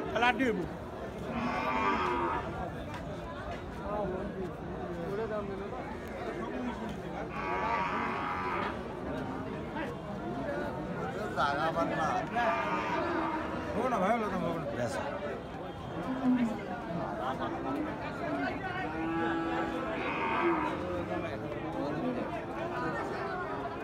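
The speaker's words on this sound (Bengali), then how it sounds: "ফ্রিজিয়ান জাতের ষাঁড়" Friesian bull mooing at a busy cattle market, several low moos rising over steady crowd chatter and nearby talking, with other livestock sounds around.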